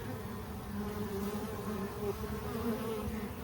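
Honeybees buzz steadily and densely during a colony cutout from a wall cavity slick with propolis, a close continuous swarm drone with no voices.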